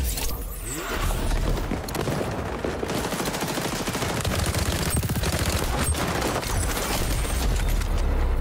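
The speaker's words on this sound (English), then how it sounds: "Oh, and I'm getting shot from the side now." Sustained automatic gunfire in the shooter XDefiant, loud and unbroken with rapid overlapping reports over a low rumble, continuing for the whole stretch.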